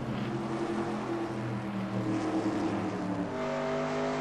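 Race car engine drone in the NR2002 racing game at Richmond, a steady loud harmonic roar that holds throughout with shifting pitch bands, no talking.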